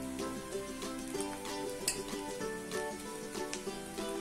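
Clam meat masala, Kerala style, sizzles quietly in a pan while being stirred, with soft scraping and clinks against the pan and no talking.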